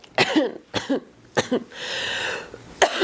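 Several harsh, close coughs in a rapid series, followed by a raspy wheezing exhale and one more cough at the end.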